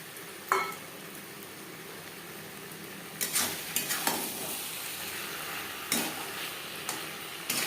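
Potatoes tipped into a simmering chicken curry over a high gas flame, with a soft steady sizzle and several scraping stirs and pan clanks coming in uneven bursts, close and moderately loud.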